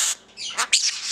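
A conure parrot squawks up close, a series of shrill, raspy calls in quick succession, loud and alone.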